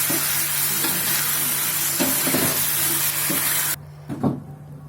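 Chili fish made with shol (snakehead) fish is stirred in hot oil after the sauce goes in, a steady loud sizzle with scraping stirs throughout, the frying noise cutting off abruptly near the end before a few last clinks.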